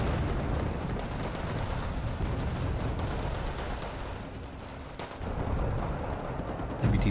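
Dense, continuous gunfire hits an MBT-70 tank during a tournament match in a wartime strategy video game, a steady roar of rapid shots and blasts with a brief lull near the end.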